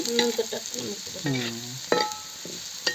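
Spices stirred into hot oil with browned onion for a Maharashtrian vegetable dish, with a steady sizzle under scraping spoon strokes and a few clinks, close to the pan and with no talking.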